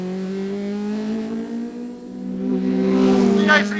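A lightweight 540 kg cup car with a stainless steel exhaust revs hard toward 9,000 RPM, a loud, raw, tonal engine note that dips, then climbs sharply in pitch near the end.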